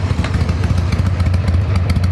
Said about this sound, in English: Nothing sounds like a Harley. That's what sells them, the sound.